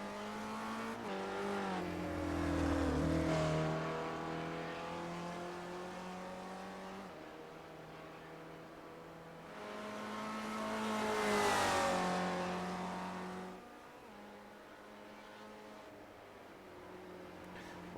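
A Ford race car in a racing game laps a circuit, its engine revving up and down through gear changes, rising to two loud peaks of acceleration and easing off between them, heard alone without talk.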